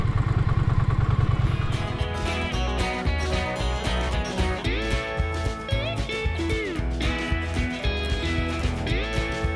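A motorcycle engine labors steadily close by climbing uphill, its pitch climbing and dipping as it works through gears, with a low rumble throughout.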